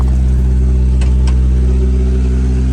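A Honda S2000 engine idles steadily up close with a small exhaust leak from a missing bolt, giving a loud, even low drone with faint ticking clatter over it.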